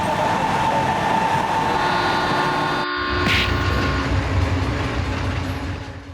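A train rolls at steady speed, its constant rumble carrying faint tonal whines and a brief sharper burst near the middle, then easing slightly toward the end as it slows.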